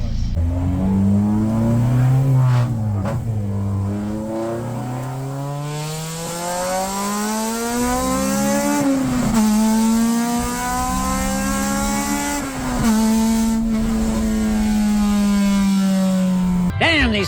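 A naturally aspirated Honda with a Type R engine accelerates hard. The loud, close engine note climbs steadily, drops back at each gear change, and repeatedly builds again through the gears.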